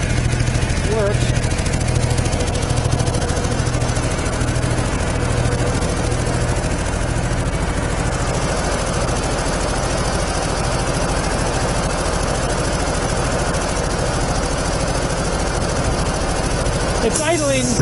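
A 25-horsepower air compressor running on single-phase power idles with a steady, loud mechanical drone and low hum throughout, with a brief sharper change near the end.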